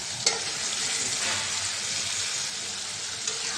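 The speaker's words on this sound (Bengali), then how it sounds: "মাছটা কষাই নেব।" Rohu fish pieces stirred and sautéed in a pan of spiced masala with bay leaf and green chilli, a steady close sizzle of frying with a couple of sharp clinks of the spatula, no talking.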